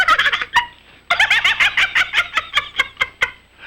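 A honking goose in a cartoon gives a loud, rapid run of nasal gobbling honks, a short pause, then a longer stuttering burst of repeated calls, alone with no talk.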